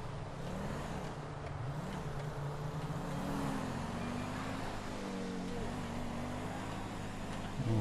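A police car driving in the GTA V video game with the LSPDFR police mod, a continuous engine drone with shifting tonal whine as it speeds along, steady and fairly loud throughout, faint background voice underneath.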